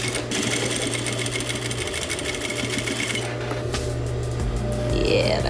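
Sewing machine stitching jeans fabric with a slightly lengthened stitch, a loud steady rapid whir that runs continuously, then slows and changes pitch near the end.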